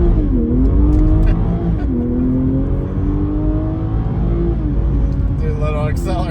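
A Toyota GR Supra with a cold start exhaust mod revs and accelerates, its engine pitch climbing in repeated rising sweeps, loud and close, with a tire spinning and a voice speaking over it.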